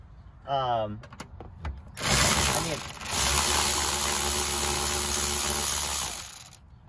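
A power tool or socket wrench works bolts loose on a Hyundai Santa Fe during serpentine belt removal, with a brief whirring burst followed by a long, loud mechanical run. A person speaks briefly at the start.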